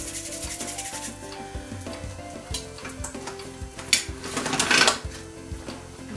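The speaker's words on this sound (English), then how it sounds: "I'm going to put that into the biggest setting on my pasta machine" Dark chocolate brown polymer clay is fed through a hand-cranked pasta machine on its widest setting, producing a continuous grinding, rubbing crunch with clicks from the crank that swells louder toward the end.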